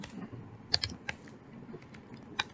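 Soft typing on a computer keyboard while writing Python code during a programming lesson, scattered light key clicks at an irregular pace, fairly quiet and close, with no talking.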